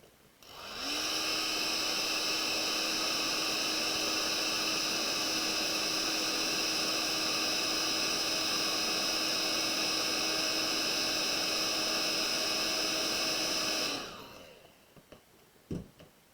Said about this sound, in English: I need to get the hairdryer on this because I'm lifting it all off.